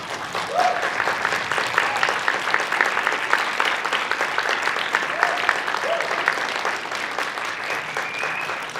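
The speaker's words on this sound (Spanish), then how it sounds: "debemos recibir con un merecido aplauso al señor Gerry Conway." Sustained audience applause at a comic convention, a dense even patter of many hands clapping continuously, with faint voices or whistles mixed in.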